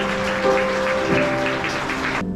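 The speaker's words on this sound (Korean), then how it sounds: "양가 어머님께서 입장하실 때 뜨거운 박수로 환영해 주시기 바랍니다" Guests clap continuously at a wedding as the two mothers walk in, a dense, bright patter of applause over sustained background music that cuts off abruptly at the end.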